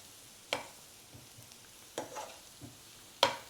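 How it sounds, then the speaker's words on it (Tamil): Sautéing ingredients in a pan for curd curry, a faint low sizzle with a few sharp spatula scrapes and taps against the pan. "இது நல்லா பச்சை வாசனை போகிற வரைக்கும் நம்ம நல்லா வதக்கிடலாம்"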